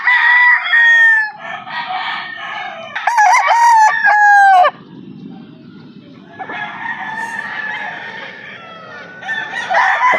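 Several fighting cocks in a brooder crow loudly and repeatedly at close range, their long strained calls overlapping in bursts between quieter stretches of low rustling and clucking.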